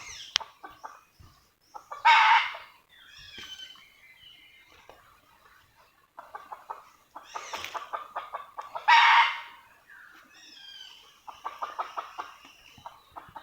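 A red junglefowl rooster clucks in short repeated bursts, with a few louder squawking calls in between, fairly close in a quiet outdoor setting.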